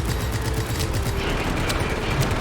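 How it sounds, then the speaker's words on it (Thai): AK rifles firing in Just Cause 3 make a dense, continuous rattle of automatic gunfire, loud and close, with overlapping bursts and no pauses. "เจออะไรที่เป็นสีแดงยิงให้หมด เอเคโอเคได้อยู่ได้อยู่ ยิงหมดยิงหมด"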